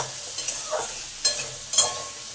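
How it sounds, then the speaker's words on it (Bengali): Potato pieces coated with salt and turmeric being stir-fried in a pan, a soft sizzle broken by four scraping stirs of a spatula at uneven intervals, no talking. "2 মিনিট আলুটাকে একটু কষে নিলাম যাতে আলুর কাঁচা গন্ধটা চলে যায়।"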